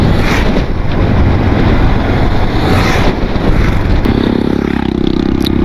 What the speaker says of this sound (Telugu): Here comes the bikers riding towards Manali.